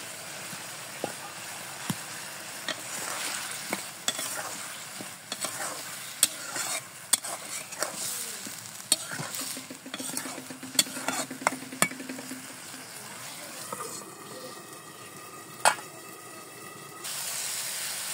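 A pan of potato curry with tomato sizzles and fries while a spoon scrapes and stirs it in repeated clinks, with a steady frying hiss underneath and a short bubbling, steaming stretch near the end.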